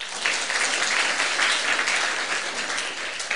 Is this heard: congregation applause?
yes